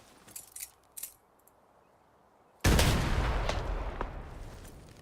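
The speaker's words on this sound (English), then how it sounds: "So you can just throw a nade like this and bounce off walls" Grenade thrown in the Arena Breakout video game: a few light metallic clinks as it bounces, a short quiet pause, then a sudden loud explosion that decays into a long rumbling roar.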